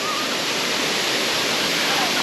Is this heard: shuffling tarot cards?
no